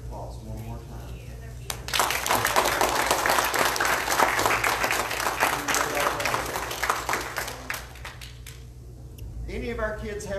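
A church congregation at a Sunday morning worship service bursts into applause, which swells, holds for several seconds and fades, with speaking voices before and after.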